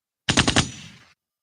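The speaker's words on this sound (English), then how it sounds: "Gunshot." A gunshot sound effect plays as a quick burst of four sharp cracks in rapid succession. A short echoing decay follows, and nothing else is heard.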